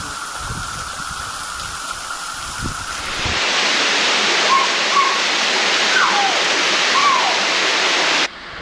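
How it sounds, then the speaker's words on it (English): Steady roar of a waterfall in the Pentecost River area off the Gibb River Road, a dense rushing wash of water that swells louder midway and holds constant, with a few bird calls chirping over it before cutting off. "look at this waterfall"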